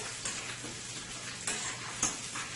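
Garlic and lemon zest sizzle gently in oil for a fish marinade, a close steady crackle with a few soft clicks of a utensil stirring the pan, and no talking.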